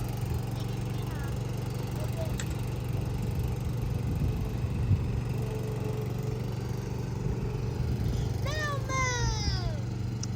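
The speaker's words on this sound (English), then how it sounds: "Here he comes on his lawnmower." Riding lawnmower engine running at a moderate distance in a garden, a steady low drone humming throughout, with faint children's voices and birdsong over it.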